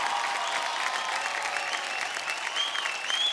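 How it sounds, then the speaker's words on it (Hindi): An audience at a folk singing reality show applauds a singer: a dense, steady wash of clapping from many hands, loud and continuous throughout. "जोरदार तालियां सर के लिए"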